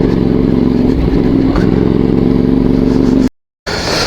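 A CFMOTO 450MT adventure motorcycle rides off-road along a trail with stiff, unadjusted suspension, its engine droning loud, close and steady before cutting out abruptly near the end.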